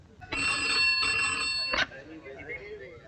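A telephone bell rings in one sustained, bright burst of about a second and a half, close and loud, then stops abruptly and faint room noise follows.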